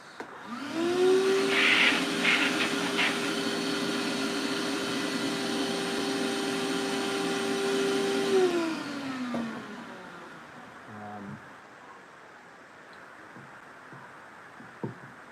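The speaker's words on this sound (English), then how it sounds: "the vacuum is good for pulling this stuff off the sanding box." A vacuum cleaner runs with a steady whine for several seconds, pulling dust off a sanding box, then spins down and falls quiet, leaving faint room noise.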